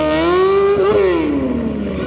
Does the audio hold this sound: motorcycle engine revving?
yes